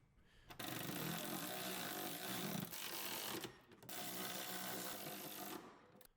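A power tool drives bolts on a Ford Mustang S197 driveshaft carrier bearing, two sustained close whirring bursts separated by a brief pause.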